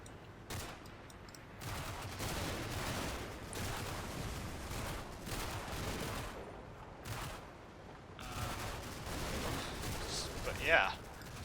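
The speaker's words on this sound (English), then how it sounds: "That funny noise in the background is the flamethrower." A flamethrower fires in a war video game, a rough, roaring burst that rises and falls in the background among gunfire and explosions, with a voice talking over it.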